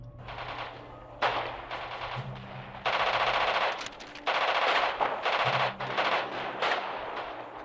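Artillery barrage gunfire in the video game Radio General, heard as loud bursts of rapid automatic fire separated by short pauses.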